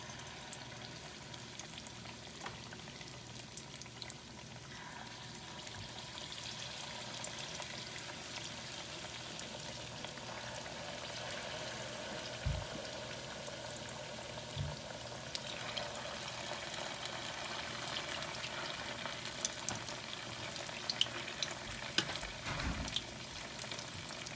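Lumpiang turon frying in hot bubbling oil over medium heat, a steady close crackle and sizzle that runs continuously with small pops and a few faint clinks, no talking.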